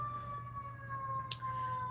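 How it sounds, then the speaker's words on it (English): An ambulance siren holds a steady, fairly faint wail from some distance, heard over the low rumble of a moving truck on the road. "Y'all about to hear ambulance."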